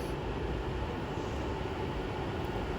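An Avanti West Coast Class 390 train arrives at Watford Junction with a steady, loud broadband rumble and rail roar that holds without a break.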